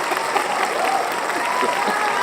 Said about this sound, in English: Hit him with the hand clap.